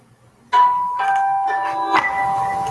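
A doorbell chimes indoors, a clear multi-note electronic melody starting abruptly and ringing on for a couple of seconds, with a second strike partway through and faint background noise.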